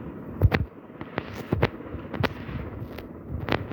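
Sharp gunshots from the Roblox Rivals shooter game crack out in an irregular series of about six or seven quick bursts over a low, steady game background.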